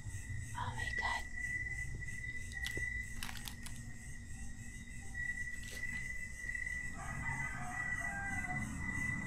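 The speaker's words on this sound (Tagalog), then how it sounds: "So nagtilaok na yung mga manok guys." Roosters crow in a rural Batangas setting, several calls rising at intervals over a steady hiss of crickets and insects, moderately distant and fairly faint.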